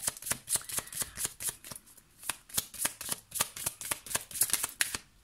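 Tarot cards shuffled in a steady run of about twenty crisp riffling flicks, each a sharp broadband snap, close and moderately loud with no talking.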